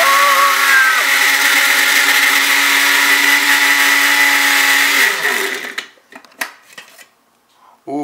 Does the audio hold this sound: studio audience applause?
no